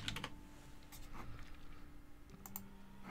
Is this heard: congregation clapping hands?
no